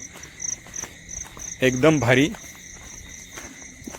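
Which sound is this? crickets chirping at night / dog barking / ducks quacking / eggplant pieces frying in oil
crickets chirping at night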